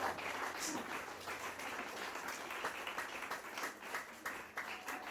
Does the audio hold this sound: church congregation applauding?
yes